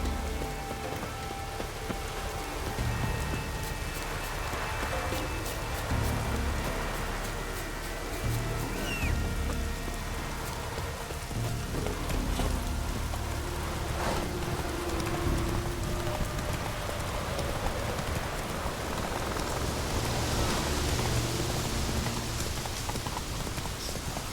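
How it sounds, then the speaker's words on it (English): Steady, dense rain falls throughout a scene in The Witcher video game, loud and continuous, with the clip-clop of horse hooves moving through it. "Looks like rain."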